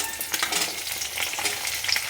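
Onions drop into hot oil where garlic has already fried red, and the pan sizzles loudly and continuously with stirring scrapes throughout, no talk.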